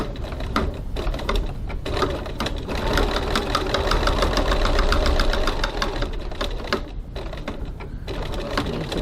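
A sewing machine stitches the card slots of a crossbody bag with a fast, steady mechanical chatter, close up, pausing briefly between short runs of stitching.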